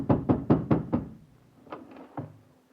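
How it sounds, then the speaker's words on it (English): Hammering knocks on a landlady's door on a snowy night: five loud, rapid blows in a quick burst, then a pause and three softer, scattered raps. "I hammered on my landlady's door and..."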